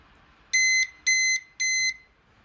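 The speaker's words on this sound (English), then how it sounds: "And you're going to hear it beep." A Powerbolt 2 electronic deadbolt beeps three times in quick succession during a factory reset, each tone loud, shrill and evenly spaced, with near silence between them.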